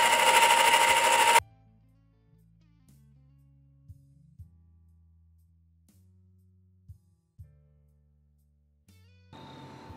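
A motorized electric ice cream maker with a turning canister whirs loudly at the start, then gives way to a low, steady humming drone with faint clicks before the loud whir returns.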